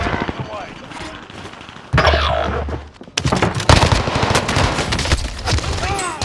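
Rapid automatic gunfire in Call of Duty on Rebirth Island, near Grandma's house, with bursts that turn into a loud, dense, sustained barrage while someone talks over it.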